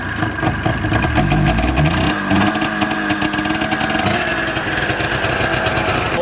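Ski-Doo 470 snowmobile engine running on its own after storage, a loud buzzing two-stroke idle with a steady, slightly uneven rhythm heard up close and alone.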